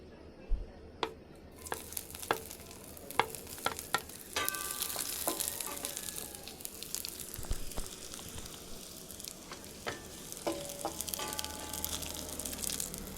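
Garlic sizzles in a pan during goat stew cooking, a quiet frying hiss that swells after a few seconds, broken by scattered clicks and scrapes of a utensil.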